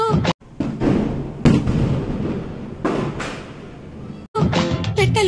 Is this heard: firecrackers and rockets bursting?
yes